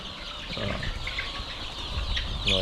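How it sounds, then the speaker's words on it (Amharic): Egg-laying hens cluck softly while they feed in the morning. The clucks are faint and scattered under a steady wash of background noise, with no talking. "ዶሮዎቹ እነዚህ ናቸው እንደምታዩት።"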